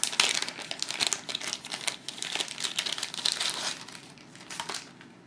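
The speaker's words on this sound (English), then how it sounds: "We're going to separate our cards" Playing cards for the Galaxy Zento card game are separated and shuffled through by hand, a close run of crisp flicks, slides and crinkly rustles that thins out toward the end.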